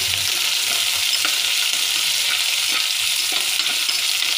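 Chopped shallots and curry leaves sizzling in a pan, a loud, even, close hiss with light crackles and occasional stirring taps.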